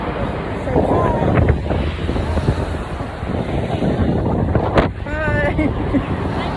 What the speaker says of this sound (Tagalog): Mahangin po dito pero ang init.